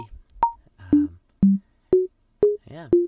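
Evenly spaced Logic Pro X Klopfgeist metronome clicks sound about twice per second, each a short pitched blip whose tone shifts from click to click.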